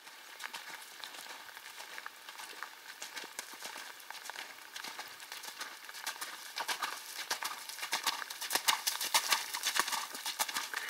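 Horse hooves during flatwork riding in an arena, a rapid, continuous clip-clop of light footfalls that carries through the whole stretch and grows louder and denser toward the end, with no talk over it.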